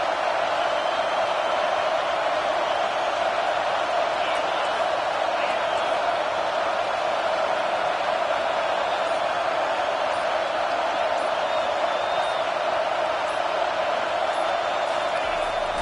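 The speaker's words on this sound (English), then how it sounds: "Decibels rising as the crowd gets behind this defense on third down." A stadium crowd in College Football 25 roars steadily on a defensive third down, a constant wall of cheering noise with no breaks.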